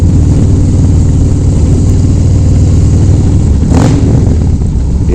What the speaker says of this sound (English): You hear that exhaust? That thing's badass.